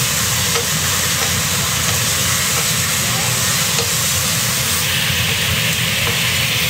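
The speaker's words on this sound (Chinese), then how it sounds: "然后再加入咱们家的红烧料汁。 然后再给它翻炒，" Meat stir-fried in a wok with red braising sauce makes a loud, continuous sizzle and hiss, with scraping spatula strokes turning the pieces throughout.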